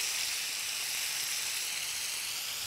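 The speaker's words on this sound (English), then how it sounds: "Saute it for a little while" Quartered tomatoes sauté in a hot pan, giving a steady, close, continuous sizzle with a bright hiss throughout and no voices.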